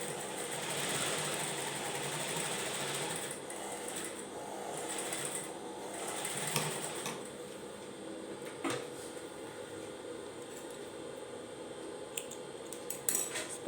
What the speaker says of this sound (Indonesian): kita jahit lebar 1 mili dari tepi